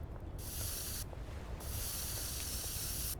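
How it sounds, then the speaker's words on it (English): Spray can bursts from a spray-painting mechanic in the video game Schedule I: two long, steady hisses of about a second and a half each, separated by a short pause, close and alone. "I like this mechanic. I like the spray painting."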